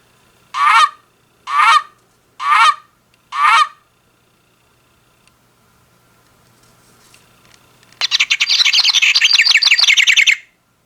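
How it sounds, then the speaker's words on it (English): An Audubon singing bird clock plays its Canada goose call: four loud, evenly spaced honks, then after a quiet pause a separate burst of high, rapid chirping birdsong. "That sure sounds like a Canadian goose to me."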